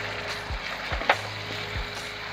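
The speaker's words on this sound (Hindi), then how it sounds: "दो मिनट हो चुके हैं और प्याज हमारे फ्राई हो गए हैं। अब हम इसमें टमाटर ऐड करेंगे।" Onions frying in ghee in a pan, giving a soft continuous sizzle broken by a few dull knocks and one sharp clack, as if a utensil touches the pan, with no talking.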